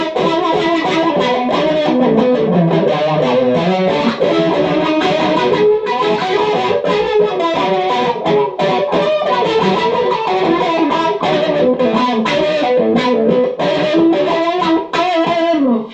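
Heavily distorted electric guitar through a Dano-Wah DW-1 pedal, loud and saturated with a thick, gritty tone and steady strummed chords throughout.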